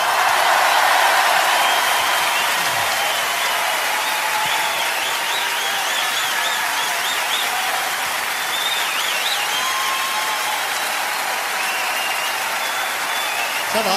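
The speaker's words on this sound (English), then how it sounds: "Applaudissez, s'il vous plaît, mes chanteurs." A large audience at a live concert applauds its singers with loud, dense, continuous clapping that lasts the whole stretch and only eases slightly.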